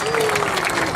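A crowd applauds at an outdoor Canadian Pacific Canada 150 train event in Calgary, dense steady clapping filling the brief moment.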